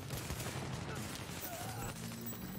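Shotgun blasts and other gunfire in the video game Tom Clancy's The Division, a dense barrage of bursts in quick succession over a busy, loud game soundscape.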